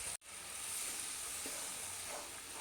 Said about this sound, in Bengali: দেখো বেশ কিছুক্ষণ আমি মশলাটাকে কষিয়ে নিলাম